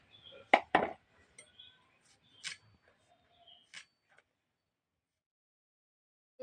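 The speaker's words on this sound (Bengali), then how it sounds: "এই যে এইভাবে সমস্ত গাজরগুলো আমি কেটে নেবো" A knife chopping carrots for carrot laddoos: a few sharp, close cuts and clinks against a board or plate, spaced irregularly with quiet gaps between them.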